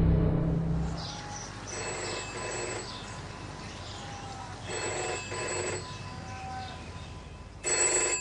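A telephone bell ringing in bursts, several repeated rings separated by short pauses, clear and moderately loud over a faint background hum.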